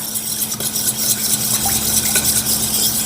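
Salt and sugar marinade with chili flakes for daing na bangus being stirred in a bowl, a steady close scraping and swishing over constant background hiss.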